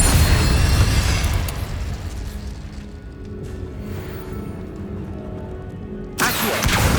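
Incendio fire spell cast in Hogwarts Legacy, a loud fiery burst at the start that fades into a lingering crackling roar, followed by another sharp blast near the end.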